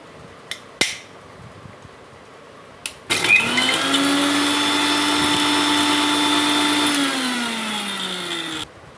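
A blender runs loudly and close for about five and a half seconds, whipping ice cubes with ghee, with a steady whirring motor tone that drops in pitch toward the end. A few knocks come just before it starts.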